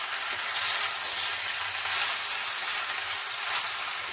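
Pasta sizzles in a pan over a low flame while a ladle stirs it, a continuous loud frying hiss with faint scraping movement and no voices.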